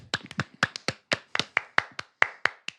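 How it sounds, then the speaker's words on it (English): Several podcast hosts clap together at close range to mark an editing sync point: about a dozen sharp, slightly staggered hand claps in quick succession, crisp and isolated against a quiet room. "And let's all clap together."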